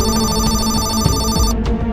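A telephone rings in a war story scene, a steady electronic ringtone with repeating tones that carries on loudly and evenly before it cuts off near the end, with no voices over it.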